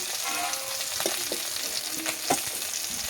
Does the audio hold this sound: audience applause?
no